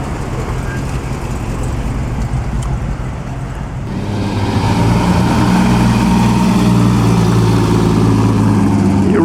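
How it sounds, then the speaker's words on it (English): A BMW drives past at the Concorso Villa d'Este on Lake Como; the engine and road noise swell about halfway through and hold loud and close while a commentator talks over it. "Now, here comes a delightful BMW."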